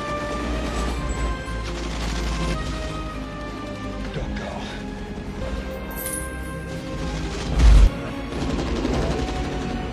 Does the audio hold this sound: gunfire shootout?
yes